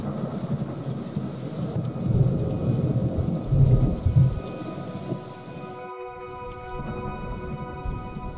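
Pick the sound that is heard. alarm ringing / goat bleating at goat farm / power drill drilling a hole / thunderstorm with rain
thunderstorm with rain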